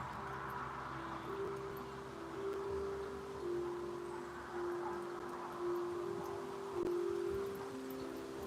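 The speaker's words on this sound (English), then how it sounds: "This wind needs to die down a little bit." Steady wind blowing outdoors, a continuous broad rushing hiss with mild gusting swells throughout, fairly faint and without speech.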